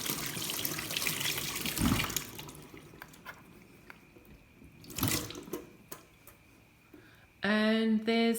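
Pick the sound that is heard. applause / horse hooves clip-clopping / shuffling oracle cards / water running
water running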